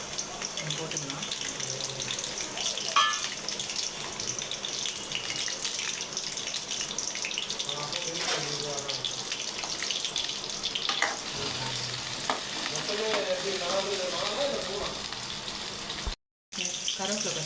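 Small onions frying in groundnut oil for a chicken uppu curry, a dense continuous sizzle with occasional stirring scrapes, nearby and steady, with a brief dropout near the end.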